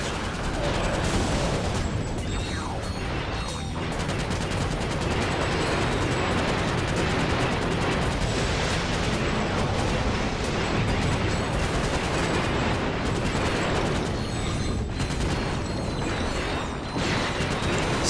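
Gunfire fills a dense, nonstop battle in the video game Ratchet & Clank: Deadlocked, with rapid overlapping shots, mechanical clatter and explosions, loud and sustained with no break.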